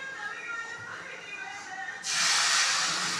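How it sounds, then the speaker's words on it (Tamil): Tomato dosa batter hits a hot griddle and a loud, sudden hiss rises and holds to the end, after some quieter background sounds. "இப்போ நம்ம தோசை ஊற்ற போகிறோம்."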